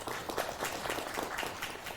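Applause from reporters and guests at a press launch event for a TV cultural program, a steady, fairly faint wash of clapping lasting a couple of seconds with no talk over it.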